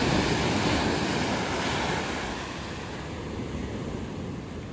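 Ocean surf at Marari beach washes in steadily, a broad continuous roar of breaking waves with some wind buffeting the microphone, loud and close with no voices.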